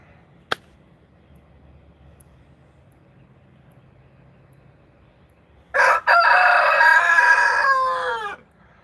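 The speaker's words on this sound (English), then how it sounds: "Cock-a-doodle-doo!" A rooster lets out a single loud, close cock-a-doodle-doo after several seconds of near quiet broken only by a faint tap.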